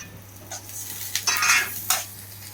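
Cluster beans are stir-fried in oil in a pan, with a soft sizzle under several sharp scraping strokes of a utensil against the pan, close and without talk.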